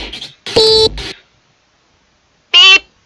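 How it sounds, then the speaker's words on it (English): Short electronic dialogue beeps from the rhythm game Friday Night Funkin', a quick pair of bursts at the start and then one more after a pause, loud and alone with no talk. "Beep. Beep."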